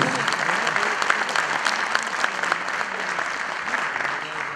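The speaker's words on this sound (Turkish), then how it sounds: "Kocaman alkış, kocaman alkış" Steady, dense applause from an audience at a regional sermon competition event, continuous and fairly loud throughout.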